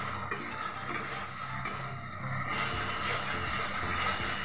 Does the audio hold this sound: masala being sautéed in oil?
yes